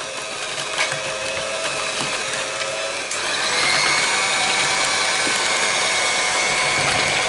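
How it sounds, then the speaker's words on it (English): A loud kitchen mixer whirs continuously up close, its motor rising to a stronger, steadier drone after about three seconds as it keeps running without pause. "As you know, my mixer is a very loud one."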